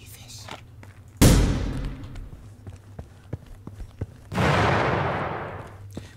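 Gunfire in the video game The Final Station comes as two loud, sharp blasts a few seconds apart, each trailing off in a long decaying rumble, with small clicks and taps between them.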